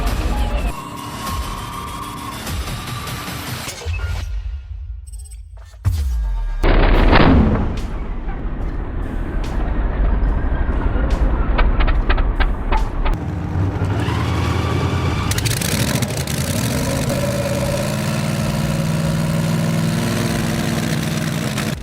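A rare old classic engine, running without a blower, bangs into life with sharp irregular firing reports, then settles into a loud, steady, rumbling idle with a continuous mechanical drone close by.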